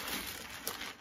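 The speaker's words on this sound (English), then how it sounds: "Crinkle." A plastic bag is pulled open with a short, close crinkling rustle lasting about a second.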